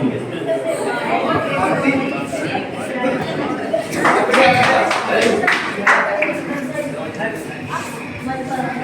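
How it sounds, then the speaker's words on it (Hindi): Audience applause welcoming a child poet at a school children's poetry gathering in Kanpur, with clapping rising amid crowd chatter and voices, loudest near the middle. "जोरदार तालियों से स्वागत कीजिए"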